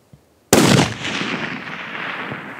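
A single loud rifle shot during a whitetail deer hunt in hill country, a sharp close blast followed by a long rolling echo that slowly fades, with near silence before it.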